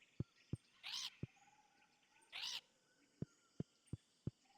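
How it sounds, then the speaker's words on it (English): A bird in a farming video game gives two short, raspy croaking calls a second or so apart, set among sharp, evenly spaced clicks and a faint background tone. "bird just makes frog noises"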